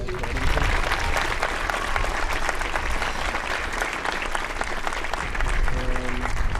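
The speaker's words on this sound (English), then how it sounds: "Please give a round of applause to Marilyn Lidman" Audience applause for a graduating student at a 2023 graduation ceremony, a sustained wash of many hands clapping at moderate distance, with a brief tonal sound near the end.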